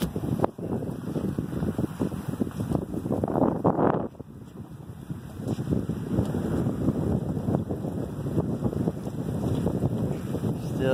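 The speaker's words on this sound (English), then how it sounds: "Still too windy." Strong wind buffets the microphone out on open water on a boat trip off South Florida, a loud continuous rumble with gusty surges and a brief dip near the middle, with no voices heard.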